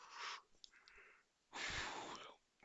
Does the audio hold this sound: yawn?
yes